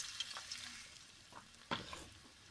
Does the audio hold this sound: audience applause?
no